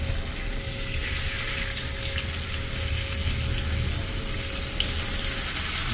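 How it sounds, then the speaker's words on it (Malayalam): A first batch of squid pieces frying in hot coconut oil for a street-stall style crispy fry, a loud, steady, close sizzle that holds constant throughout. "അങ്ങനെ നമ്മൾ ആദ്യ ബാച്ച് ഫ്രൈ ചെയ്യാൻ ഇട്ട് കൊടുത്തിട്ടുണ്ട്"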